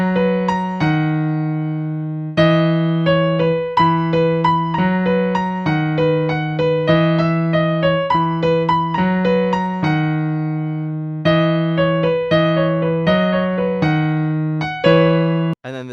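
Piano playing both hands of a song, the familiar repeated right-hand riff over a moving bass line, bright and close, continuous with no talking.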